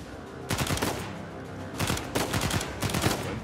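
Rapid bursts of automatic gunfire in Uncharted 4, loud and close, in several volleys separated by short pauses, with no voices.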